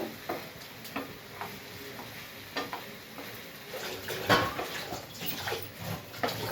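Prawns are stirred in a pan with green chillies and onion, giving a soft sizzle and scattered scraping clicks of a utensil, fairly close and quiet, with no voices.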